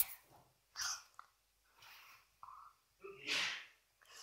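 A few quiet sneezes and sharp breathy bursts in a room where several people keep sneezing, scattered irregularly with soft breaths and murmurs between them.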